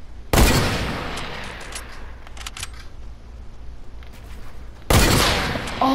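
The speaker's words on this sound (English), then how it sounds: "I don't know if somebody knows he's shooting at him." Video game gunfire, likely Fortnite, comes as sharp, loud bursts at the start and again near the end. Between them, quieter scattered shots and clicks crackle over a steady background.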